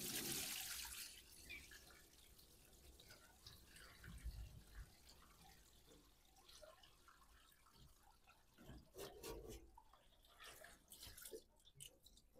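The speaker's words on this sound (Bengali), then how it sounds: "প্রথমে কি খেজুরের রসগুলো ছেঁকে নিবেন?" Fresh date palm juice being strained for jaggery making, with a soft, uneven trickle and drip of liquid running through a strainer, faint and close, with occasional splashes and no speech.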